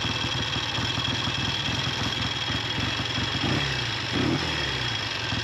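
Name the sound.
Triumph T90 motorcycle engine top-end rattle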